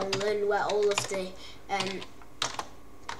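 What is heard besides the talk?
computer keyboard typing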